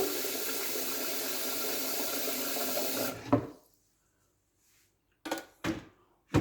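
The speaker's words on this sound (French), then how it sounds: "Je mets de l'eau jusqu'à hauteur de couteau." Water pours from a tap into a blender jar, filling it to blade height for cleaning: a steady rushing stream for about three seconds that cuts off, followed by a few short knocks and splashes.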